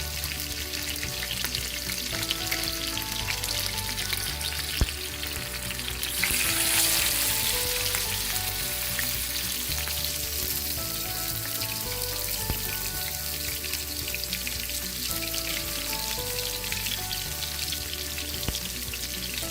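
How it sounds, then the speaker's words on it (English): Red snapper fish frying in oil gives a continuous loud, close sizzle with fine crackling like rain. It swells briefly early on and then holds steady throughout, with no voices. "till we fry all of our fish"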